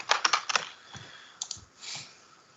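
Keystrokes on a computer keyboard during a coding session, a quick burst of close clicking taps at the start followed by a few sparse, softer presses.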